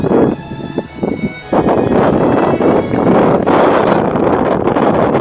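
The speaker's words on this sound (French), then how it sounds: "Il y a du vent ce matin et il est pas en ma faveur" Heavy morning wind in Sicily buffeting the microphone in loud, continuous roaring gusts, briefly easing before surging back.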